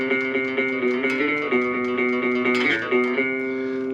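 A bass guitar plays the top phrase of a song in an unplugged style, a short melodic line of plucked, sustained notes with a couple of slides, played alone.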